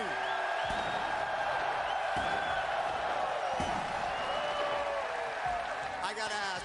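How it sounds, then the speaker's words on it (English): Large arena crowd at a Rocket League world championship event in Dickies Arena roaring and applauding for Space Station Gaming, a dense steady wall of cheers and clapping with scattered whoops throughout. "how does that make you feel to hear this roar?"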